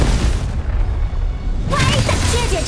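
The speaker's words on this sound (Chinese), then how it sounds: "时间到了，爆炸！" A loud booming explosion from a battle in Honkai Impact 3 rolls on as a sustained rumble, with a game character's voice talking over the later part.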